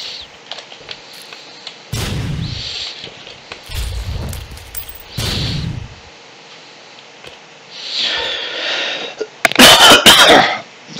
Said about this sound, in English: I do apologize for the cough.